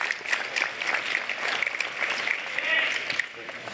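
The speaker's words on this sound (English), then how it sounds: "You guys clapped at him." Applause from a conference audience at a Big Kansas City 2013 speaker panel, a steady dense patter of clapping held at moderate level throughout.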